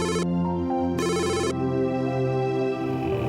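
A telephone ringtone sounds in two bright electronic bursts separated by a pause, close and clear, with a sustained tonal hum continuing afterward.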